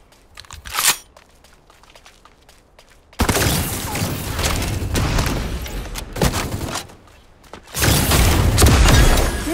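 Gunfire and explosive bursts from the mech shooter game Super Mecha Champions, a sharp shot near the start followed by long, loud stretches of dense rapid firing and booming impacts.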